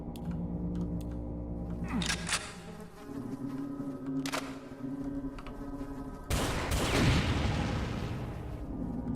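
Gunfire in the video game Brutal Doom 64, rapid shots and blasts over a continuous game soundtrack and effects, with a heavier explosive burst near the end.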